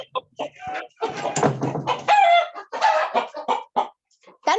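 A hen clucks repeatedly and loudly, close to a microphone that is picking up an online cardiology training session, with busy bursts of cackling that fill the whole stretch.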